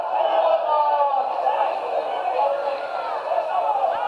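A home rugby league crowd at a Barrow Raiders match cheers and roars in a sustained, broad wash of voices that swells and eases over a few seconds.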